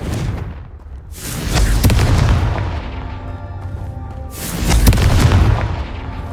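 Two heavy booming blasts of the Confringo explosion spell in the video game Hogwarts Legacy, each a loud deep burst trailing into a rumbling decay, roughly three seconds apart.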